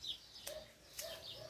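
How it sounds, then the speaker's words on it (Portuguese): House sparrows give a couple of short, high chirps spaced about half a second apart, moderately distant against a quiet outdoor background with no talking. "Passarinho cantando"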